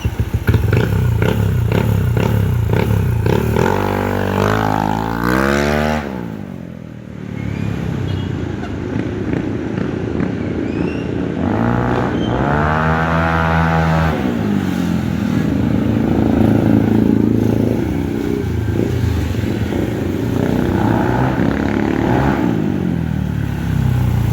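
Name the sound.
Yamaha Mio i 125 scooter engine running after valve work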